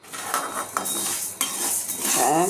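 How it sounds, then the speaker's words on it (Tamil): Green gram being dry-roasted in a pan over a medium flame: close, busy rattling and scraping as a spoon stirs the dry grains against the metal, with sharp clinks at intervals. "இதை பாதி பாதியாக நல்லா அந்த பச்சை கலர் மாறுற வரைக்கும் வறுத்து எடுத்துக்கலாம்"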